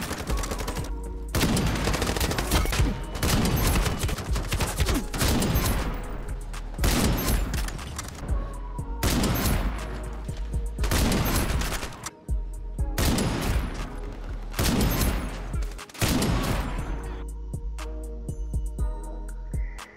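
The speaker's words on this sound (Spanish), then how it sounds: "Hasta tiene un imponente sonido de disparo." L96A1 bolt-action sniper rifle firing in the shooter game Ironsight: a string of loud, booming single shots with long ringing tails, spaced roughly every two seconds, alone with no talk.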